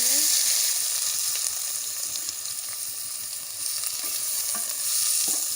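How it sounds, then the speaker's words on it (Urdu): Onions frying in hot oil in a saucepan, a loud continuous close sizzle with light crackling and occasional stirring scrapes. "آئل گرم ہونے کی صورت میں آپ نے اس میں پیاز ایڈ کر لینے ہیں۔"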